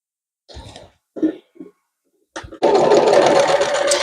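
A sewing machine runs a steady continuous stitch along a French seam on a beginner laundry bag, starting after a few brief handling sounds and pauses, close and loud to the end.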